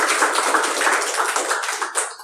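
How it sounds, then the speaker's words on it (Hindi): Audience applause at an open mic poetry event, steady clapping from a small crowd sustained for a couple of seconds before tapering off, alone without talk. "थोड़ा सा जोश, तालियां जी"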